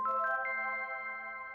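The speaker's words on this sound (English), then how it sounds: "He holds it up to the scanner of the backyard door, and I hear the standard chime." A soft electronic chime sounds from a door scanner in the video game Komorebi, with a short rising two-note tone that then holds and fades quietly on its own.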